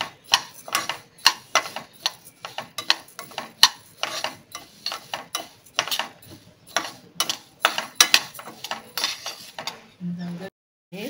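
Urad dal dry roasting in a pan, stirred in a brisk, rhythmic run of scraping strokes that rattle the lentils against the metal, ending with a short hum after the stirring stops.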